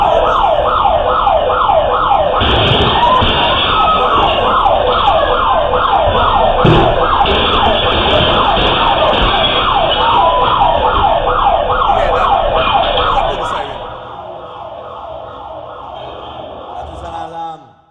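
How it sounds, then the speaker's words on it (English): A loud wailing alarm siren sounds continuously, its pitch sweeping up and down in a fast repeating cycle. It holds steady for about thirteen seconds, then drops to a quieter, more distant level before cutting off. "That is the alarm going off."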